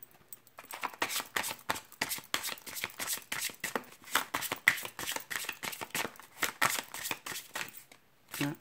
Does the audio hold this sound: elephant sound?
no